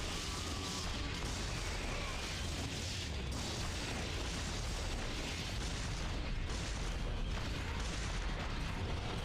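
Big explosions thunder through a Devil May Cry game battle, a dense, continuous roar of booms and blasts filling the whole stretch with little letup and no clear gaps between hits.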